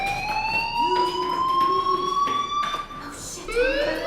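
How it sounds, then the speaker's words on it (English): A video game fire alarm wails continuously and loudly, a steady electronic tone with rising and falling pitch and a harsh pulsing edge, filling the whole stretch. "Hey, do you hear that fire alarm?"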